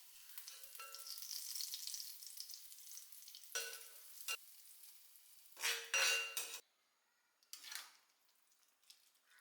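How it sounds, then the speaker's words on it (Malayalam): Small onions sizzle in coconut oil in a small pan, a faint steady frying hiss broken by several sharp clinks and scrapes of a utensil against the pan, ending in quieter stirring. "ഈ ഒരു ചെറിയ ചട്ടിയിൽ വെളിച്ചെണ്ണ ഒഴിച്ച് നമുക്ക് ചെറിയ ഉള്ളി അത് വഴറ്റി ചേർക്കണം"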